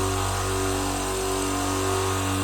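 An AUARITA oil-free 100-litre air compressor runs with a steady, loud motor hum and mechanical drone, continuous and close throughout with no pauses.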